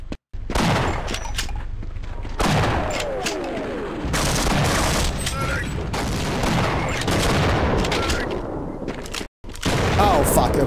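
Shotgun blasts ring out in Half-Life amid dense, loud in-game combat, with repeated heavy booms and clattering bursts across the scene while someone talks over the action.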